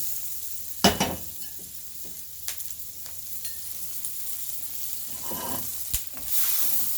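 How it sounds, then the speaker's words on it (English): Vegetables fry in melted butter in a pan, a steady close sizzle broken by a few sharp clatters and a scraping stir, with no one speaking. "About 2 tablespoons of butter. And then I'm going to add my vegetables."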